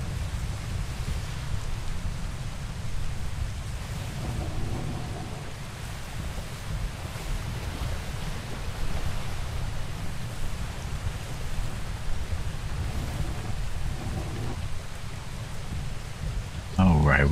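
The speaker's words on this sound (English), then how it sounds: "it started raining" Rain falling in the Atlas video game, a steady broadband hiss mixed with low water and wind rumble, continuous for the whole stretch, with brief faint voices in the middle and a louder knock at the end.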